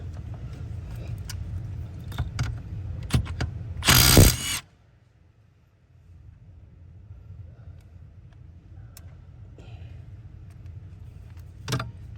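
Power tool with raised torque breaking off ignition lock bolts on a 2006 Nissan Altima: scattered ratcheting clicks, then a loud burst of whirring lasting under a second, followed by quiet low hum and a final sharp click.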